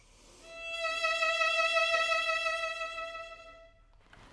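A lone violin sustains one note with wide, slow vibrato, the pitch swinging audibly as the tone swells and then fades away over about three seconds.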